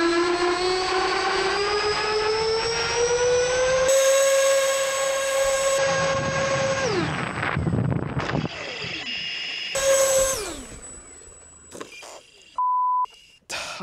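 An electric ducted fan on a giant model Magnus-effect plane whines loudly and steadily, rising in pitch, then winds down as the motor is cut, with a few electronic beeps near the end.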